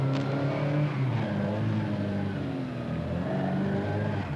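A car engine drones and revs steadily while the car is driven, heard from inside at close range. A loud, continuous tone rises and falls slightly with the throttle, with no talk.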